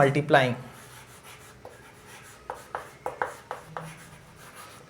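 Pen writing on paper during a class 10 maths lesson on linear equations, with a series of short close scratching strokes after a brief spoken phrase, moderately loud.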